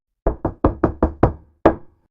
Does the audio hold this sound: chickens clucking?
no